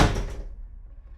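A door rattles on its hinges when something is thrown against it from outside a room, making a single heavy, close thump that dies away quickly with no voices.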